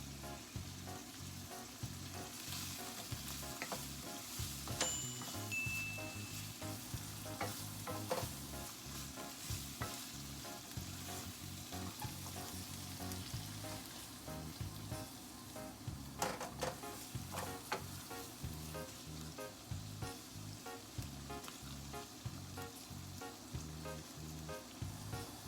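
Fresh mushrooms sizzle steadily in a pan while being stirred, with soft scraping and clinking of the utensil over the constant frying hiss, close and moderately quiet.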